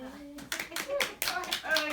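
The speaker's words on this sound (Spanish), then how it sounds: "un fuerte aplauso." A church congregation breaks into applause, clapping that swells in a few uneven bursts while voices carry on over it.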